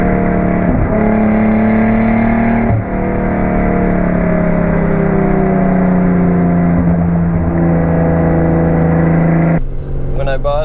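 Straight-piped, twin-turbo Nissan 300ZX (Fairlady Z) engine revving loudly and continuously, with harmonic tones rising and falling over about ten seconds, close up, and a short shift in pitch near the end.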